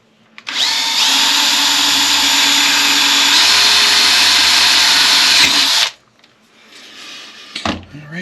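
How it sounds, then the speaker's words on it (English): A power drill bores a 3/8 inch jack hole in a cigar box ukulele, running loud and steady for about five seconds before cutting off, followed by faint handling clatter. "Now we're going to drill the 3/8 for the jack."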